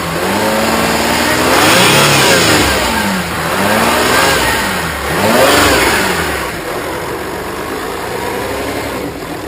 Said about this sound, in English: So now he'll rev it up, and you can see how the engine is calm while at idle.